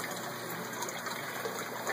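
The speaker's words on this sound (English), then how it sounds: "that water overflows into our biofilter here, which is a repurposed 55-gallon drum" Water from an aquaponics stock tank overflows into a biofilter made from a repurposed 55-gallon drum, a steady, close splashing gush that runs evenly and alone.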